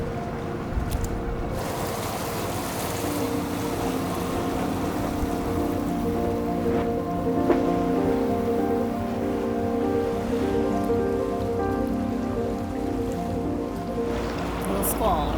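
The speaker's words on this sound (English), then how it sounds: "Little squall, right?" Steady rain from a squall pours down on a boat in a dense hiss, with water sloshing nearby and a voice briefly speaking over it.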